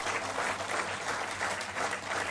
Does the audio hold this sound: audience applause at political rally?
yes